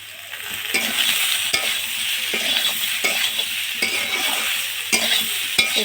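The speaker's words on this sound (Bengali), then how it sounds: "দিয়ে একটু আলুর তরকারি বানাচ্ছি।" Potato curry fries in a pan with tempered five-spice, dried red chilli and black cumin, sizzling loudly and steadily with repeated scraping stirs, close by and without talk.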